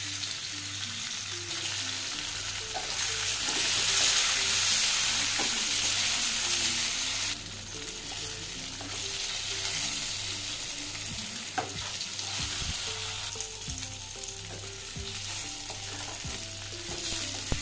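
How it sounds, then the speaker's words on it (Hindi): Green chillies fry in a covered pan for a pickle, giving a steady, fairly loud sizzle with a low hum beneath it and occasional soft clinks of the lid and pan. No one speaks. "हम इसमें मिर्च डाल के मिर्च को अच्छे से फ्राई कर लेंगे।"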